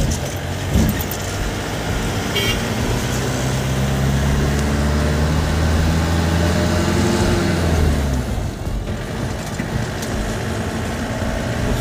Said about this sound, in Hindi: अभी हम लोग गाड़ी पे हैं